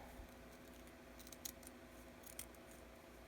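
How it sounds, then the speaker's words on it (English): Scissors snip a tag off a scarf in a few quick, faint metallic cuts against a quiet room background. "And I'm going to cut this tag off."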